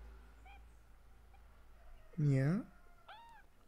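A kitten gives one loud, close meow, with a couple of softer, shorter mews before and after it. A person says a single word quietly.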